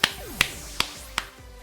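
Four sharp hand claps land at an even, unhurried pace, each a crisp isolated crack standing alone in a quiet room.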